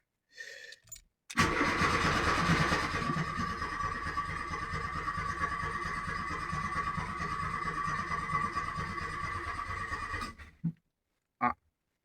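A cold Peugeot 205 engine cranks and fires, then runs at a loud, steady idle for about nine seconds before cutting off, with a brief short burst just after.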